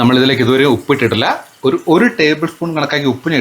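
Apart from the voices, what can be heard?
No everyday noises stand out.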